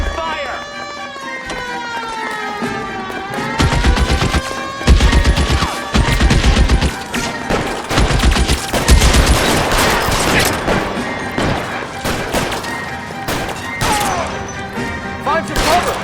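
Gunfire breaks out in the video game L.A. Noire, with loud repeated bursts of shots and crashes mixed with a siren-like wail and shouting voices.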